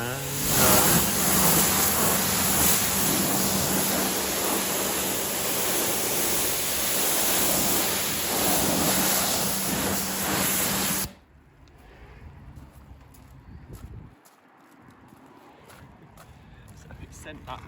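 A pressure washer blasts water onto a car in a loud, steady hissing spray for about eleven seconds, then cuts off abruptly, leaving quieter outdoor background with faint movement.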